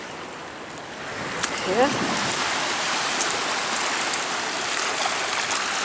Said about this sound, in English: let's give it a little rinse off.